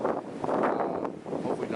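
Wind gusting across the microphone on a hiking trail, a loud, rough, continuous buffeting rumble with no other sound standing out.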